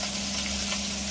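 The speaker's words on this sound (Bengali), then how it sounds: "মশলা আমার ভাজা হতে থাকে" Spices such as bay leaf and chilli fry in hot oil for a fish curry, giving a steady, loud, dense sizzle that stays constant from start to finish with no talk over it.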